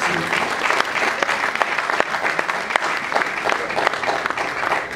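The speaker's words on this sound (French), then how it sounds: "je vais quand même demander à mes amis d'applaudir pour Félix Wazelbois pour cette" Audience at a press conference applauding Félix Wazelbois, a steady, dense clatter of many hands clapping throughout, close and loud with a few sharper individual claps standing out.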